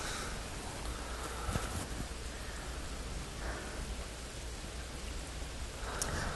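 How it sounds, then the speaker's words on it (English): Steady rain falls in New York City, a dense, even hiss of drops spread across the whole stretch, with a few faint thumps and splashes rising briefly above it. "Goddamn rain."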